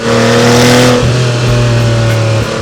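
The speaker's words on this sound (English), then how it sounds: "I did the Fisker exhaust." A 1996 Porsche 911 Turbo with a Fisker exhaust revs loudly up close, a sharp throttle blip that drops back into a deep, steady exhaust drone with small dips.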